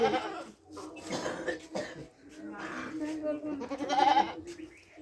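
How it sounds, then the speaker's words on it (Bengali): Ram goats give a few short, wavering bleats, one near the start and a louder one toward the end, heard close by amid people chatting and laughing. "রাম ছাগল এরা"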